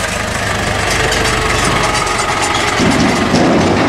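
A farm tractor idles steadily up close with a trailer hitched behind, its low engine rumble constant throughout and swelling slightly louder near the end, with no voices.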